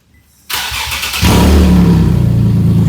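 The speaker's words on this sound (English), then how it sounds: "But I told him just to start it the hell up to see how it stands" A Nissan 370Z with a disconnected Y-pipe fires up: a quiet lead-in, then the starter catches and the engine bursts into a loud, raw, open roar that settles into a heavy, rumbling idle up close.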